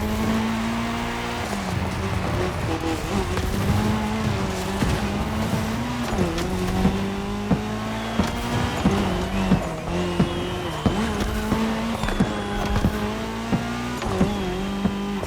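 Race cars in The Crew Motorfest roar along tarmac in a cross-terrain race, engines revving and shifting pitch continuously with brief tire squeals, loud and sustained throughout.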